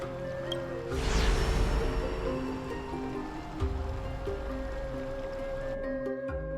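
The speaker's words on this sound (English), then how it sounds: "That's the sound of an all-out war." A dense, rumbling din of all-out war in the video game Honkai: Star Rail, with a swelling burst of noise near the start, explosions and clashing under a steady musical drone.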